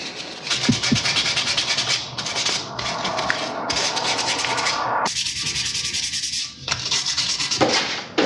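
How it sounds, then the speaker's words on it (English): Sanding of restored motorcycle engine block parts: steady, close abrasive rubbing and scraping in continuous strokes with a few short pauses, no voices. "I'm going to sand everything and then degrease it"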